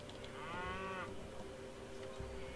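In the video game Age of Mythology, a cow lets out a single drawn-out moo, faint and quiet beneath a low background hum of game ambience.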